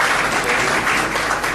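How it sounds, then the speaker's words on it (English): Applause from an audience at a youth employability forum held at All Nations University, a dense, steady clapping that fills the whole moment at close range with no pause. "Please clap for yourselves."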